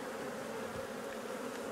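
Honeybees at an open hive make a dense, continuous buzzing hum that stays close and steady throughout, with no voices.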